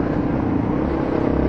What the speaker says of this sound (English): we've also got all these older vehicles driving around